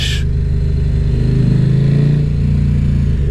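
A KTM 1190 RC8 R sport motorcycle's big engine roars close by, a deep throbbing rumble that swells in a rev around the middle, loud and alone.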